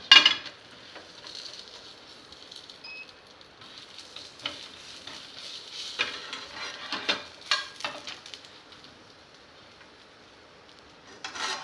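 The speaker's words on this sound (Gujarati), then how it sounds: "હવે આમાં જ આપણે ફરીથી ઘી મૂકીને આપણી ફ્રેન્કીની રોટલી એને શેકીશું." A Frankie roti roasts in ghee on a pan, with a soft sizzle and frequent scraping, rubbing stir sounds that rise and fall, alone and close by.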